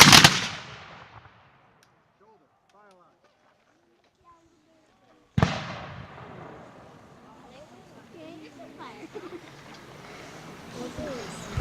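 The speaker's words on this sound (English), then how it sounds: "I would ask the 6th Middlesex Regiment to do a volley salute." A regiment's rifle volley salute at an outdoor Memorial Day parade: a loud, sharp burst of gunfire opens the clip and a second volley cracks out about five seconds later, each leaving a long echoing tail over crowd noise, with faint birdsong in the pause.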